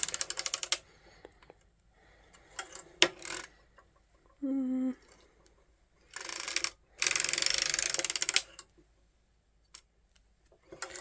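A hand-cranked circular sock knitting machine works a heel, giving bursts of rapid mechanical clatter and ticking separated by pauses, with a brief hum in between.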